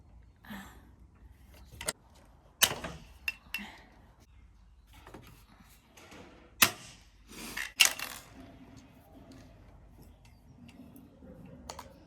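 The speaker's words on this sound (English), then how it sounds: "I hate using these rivet guns." A hand rivet gun fastening panels on a vintage caravan during restoration, making several sharp metallic snaps and clicks at irregular intervals, close and fairly loud, with quieter handling clatter between them.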